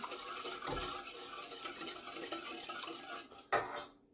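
A utensil stirs egg yolk and milk in a pot, giving soft, repeated scraping and clinking against the metal at close range, faint overall, with a sharper knock near the end before it falls quiet.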